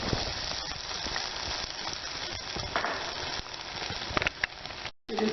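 Chopped onions sizzling steadily in hot oil in a pan, a dense continuous crackle with small pops, cutting out briefly near the end.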